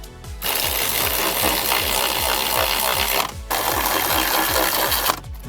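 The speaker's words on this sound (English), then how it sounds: "This is not an impact, just a ratcheting battery powered wrench." A battery-powered ratcheting wrench drives 18 mm brake caliper bolts on a Camaro steering knuckle, a loud rapid buzzing rattle of steady clicks in two long bursts separated by a short pause.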